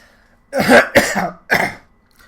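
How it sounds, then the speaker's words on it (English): A man coughs three times in quick succession, harsh and close, with a throaty rasp, after a brief quiet start; the first two bursts run together and the third follows a short pause. "Sorry about my coughing."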